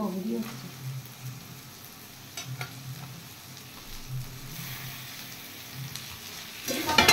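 Minced mutton frying with turmeric and chilli powder in a pan, with a steady low sizzle and occasional stirring scrapes that grow louder toward the end, close by, with no talk.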